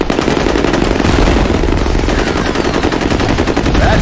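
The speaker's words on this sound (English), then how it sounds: "Grenade out!" Intense, continuous gunfire with a grenade blast during a F.E.A.R. Combat capture-the-flag match, loud and dense throughout with rapid overlapping shots.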